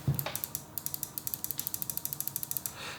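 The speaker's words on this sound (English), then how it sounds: "The clicks are very loud." A HyperX Pulsefire Haste gaming mouse with TTC micro gold switches clicking rapidly, a quick run of sharp, bright clicks at an even rhythm, close and crisp, with no talking.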